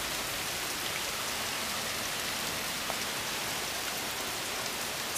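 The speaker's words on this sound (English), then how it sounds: "It's really crazy how much rain we've been getting." Heavy rain pours down steadily on a flooding garden, a dense, even hiss of countless drops striking plants and ground, constant and close throughout with no voices.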